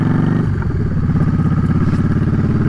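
A Japanese metric cruiser motorcycle engine idling close by, with a loud, steady, choppy, rumbling pulse that continues evenly throughout.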